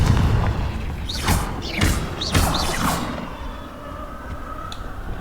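Confringo spell blasts in the Hogwarts Legacy video game, a series of four loud booming explosive hits with whooshing tails about half a second apart, then fading into a low ambient rumble.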